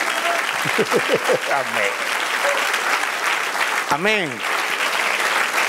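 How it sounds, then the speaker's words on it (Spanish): Congregation applauding during a church sermon, a steady wash of clapping running throughout, with voices calling out and a brief sung or shouted exclamation over it. "Dale un aplauso, Señor."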